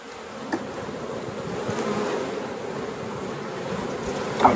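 Honeybees buzz steadily in an open two-queen hive, a dense, close drone holding at an even level throughout, with a brief knock near the end.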